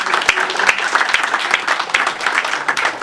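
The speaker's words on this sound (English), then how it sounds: "Just go ahead and applaud right now for David Leedy." Conference attendees at a developer session break into lively applause, a loud, continuous patter of many hands with sharp individual claps standing out close by, lasting the full three seconds.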